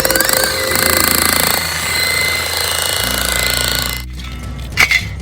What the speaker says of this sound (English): It will be taking your demo hammer here,